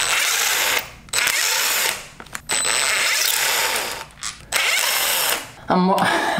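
Power tool spinning bolts out of a Mitsubishi Evo 9 MAP Stage 2 short block during teardown, loud whirring bursts separated by brief pauses and a final clack, with a voice speaking over it.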